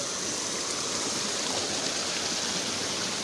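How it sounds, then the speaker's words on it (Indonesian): A river stream on a village trek in Indonesia rushes close by in a constant, even wash of flowing water with no other sounds. "Kita ngelewatin aliran sungai"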